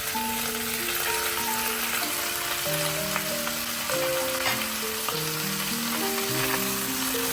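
Pork belly searing in a pan with aromatics, a bright, steady sizzle and crackle running throughout, with background music playing over it.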